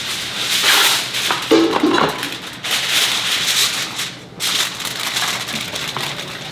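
Aluminium foil crinkles and rustles as it is pressed over a dish in a kitchen, giving a continuous close crackling with brief pauses and a few clinks.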